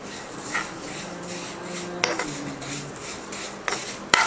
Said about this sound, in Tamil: அதையும் வறுத்துக்கலாம் நெய்யில்.